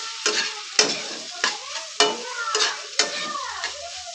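Pasta being stirred with soy sauce in a hot pan, about seven sharp scraping strokes at a regular rhythm over a light sizzle, close and loud with no talking.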